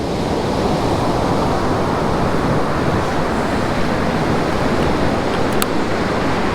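Sea surf on a beach on the East Coast at Withernsea with about a 1.5 metre swell, a continuous loud roar of breaking waves mixed with wind rumble, close and steady throughout with no voices.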